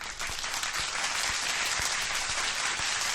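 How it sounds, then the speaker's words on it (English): Studio audience claps in a sustained, even round of applause welcoming a guest to an interview show, dense and close throughout. "please give a warm round of applause"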